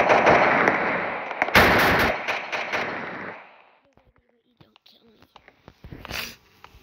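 Gunfire in a Roblox cops-and-robbers game rattles as a dense, fast burst of shots for a few seconds, followed by scattered single pops and another short burst, with a voice talking over it.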